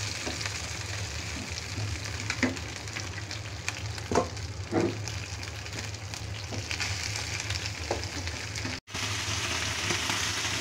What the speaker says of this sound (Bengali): এই মশলাটা আমি এখন জাল করে একদম শুকনা করে ফেলবো